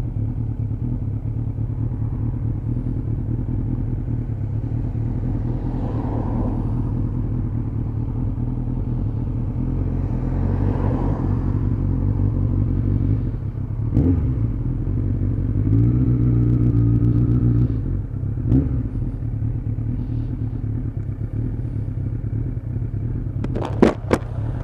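A Suzuki Bandit 600 motorcycle with a carburettor issue idles steadily while sitting in traffic, a close, even low engine rumble throughout with a brief rise midway and a couple of light clicks near the end.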